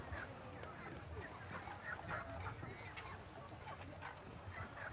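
Chickens cluck steadily through a busy market scene in the video game El Dorado, the game sound effect running as a continuous bed of fowl noise under background chatter.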